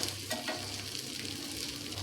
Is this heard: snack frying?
yes